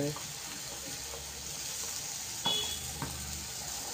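Onions and vegetables such as capsicum and carrot frying in a pan, a steady low sizzle with a couple of sharper stirring clatters of a spoon against the pan midway.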